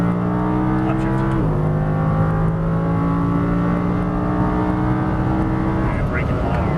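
An Audi R8 accelerates hard on a race track, its engine a loud, steady, tonal roar that climbs in pitch, with a brief gear change early on. A driving coach talks over the engine.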